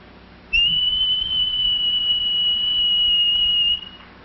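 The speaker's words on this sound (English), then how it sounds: "Now, a high frequency sound." A pure, piercing high tone from a 1957 hi-fi demonstration film holds steady for about three seconds, then cuts off.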